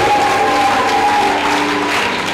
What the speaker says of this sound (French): Give a hand of praise for yourself.